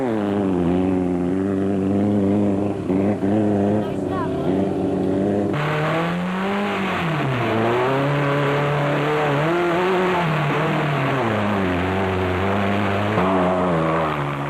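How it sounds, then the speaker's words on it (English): Race cars in the Stokkiesdraai 200 endurance race in 2005, engines droning loud and continuous as they rise and fall in pitch while accelerating and shifting, with a commentator talking over the racing throughout. "Hutchison and Ormerod had carved their way through the field and were in a position to challenge for the lead"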